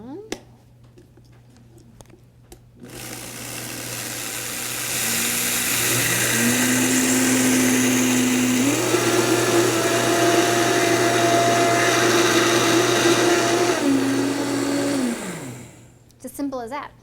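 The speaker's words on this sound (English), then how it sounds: "we're just going to blend it up" A Vitamix blender grinds grain into flour, starting abruptly, then climbing in pitch and settling into a loud, sustained whine with shifting tones before cutting off, with brief talk before and after.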